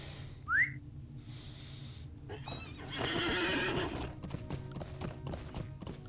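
A horse whinnies, then hooves clip-clop steadily while riding in the video game Lord of the Rings Online, the hoofbeats continuing under a soft wind-like swell and quiet game ambience.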